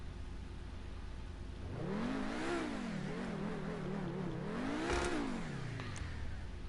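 A Pegassi Torero XO in GTA 5 Online, fitted with a carbon turbo exhaust, revs hard twice in a row: engine pitch rises, wavers, climbs to a second peak, then falls away, loud and close with no talk.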